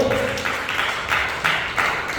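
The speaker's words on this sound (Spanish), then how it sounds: "Denle un fuerte aplauso a Jesucristo" A church congregation gives a loud round of applause, a steady, dense wash of many hands clapping that fills the room for the whole moment, with faint voices mixed in.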